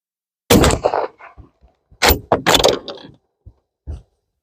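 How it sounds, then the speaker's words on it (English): Straight-pull bolt of a Merkel Helix Alpinist stalking rifle being worked to load a round, a close series of sharp metallic clacks and slides in two quick bursts with brief clicks after, no talking. "So that's the benefit of a straight pull, just straight forward like that. Nice quick load."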